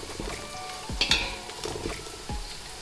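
Onions sizzle in a pan, browning to golden, under a soft steady fry with several thumps and scrapes of stirring, close but fairly quiet.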